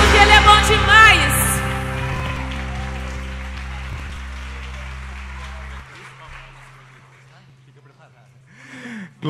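Church congregation clapping hands together, a dense burst of applause under a loud voice that fades over several seconds into quieter room sound.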